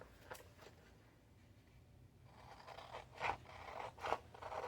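Scissors trimming cardstock for a paper craft, a few short close scraping snips that grow louder toward the end, quiet and with no voices.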